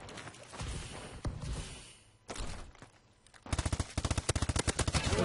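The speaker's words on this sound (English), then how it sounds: "This gun on silencer is not bad." A suppressed gun fires in the Call of Duty: Advanced Warfare shooter game, short muffled shots followed by a rapid, evenly spaced burst of loud close shots, with other game sounds earlier.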